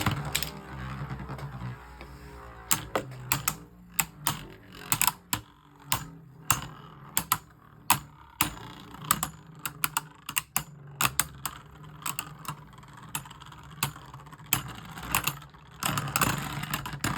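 Beyblade Burst Hasbro spinning tops, including Kaiser Kerbeus, clashing in a stadium: a dense run of sharp clicking impacts and rattles over a whirring hum, with bursts of rapid collisions near and loud throughout.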